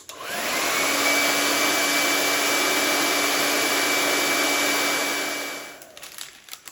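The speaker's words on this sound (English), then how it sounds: "we're going to use a hair dryer to try to melt this wax off" A hair dryer blows steadily at close range to melt candle wax off a fabric table runner, a loud continuous whooshing roar with a whining tone that runs for about five seconds and then cuts off.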